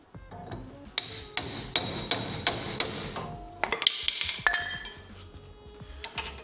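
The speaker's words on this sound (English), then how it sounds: "slide the hub on, send it home with our bearing tool." A hub is hammered onto a car's back axle with a bearing tool in a home garage: about eight sharp, ringing metallic strikes in a steady rhythm, then a few irregular clinks and a final tap, close and loud.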